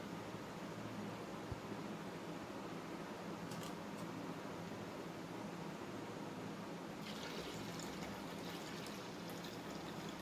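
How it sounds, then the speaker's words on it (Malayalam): Water poured steadily into lime juice, a soft continuous trickle and splash heard faintly and alone, with a low fan-like hum beneath. "നമുക്കിതിലേക്ക് ബാക്കിയുള്ള വെള്ളം കൂടി ഒഴിച്ചു കൊടുക്കാം"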